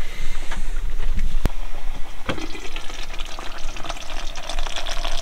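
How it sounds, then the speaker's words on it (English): Food frying in a Ridge Monkey sandwich pan inside a camper van, a steady close hiss of sizzling with occasional sharp crackles and clicks of utensils. "Oh, sizzling away nicely."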